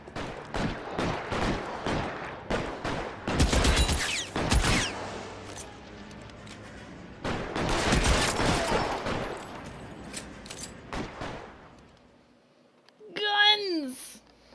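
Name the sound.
gunfire in the video game L.A. Noire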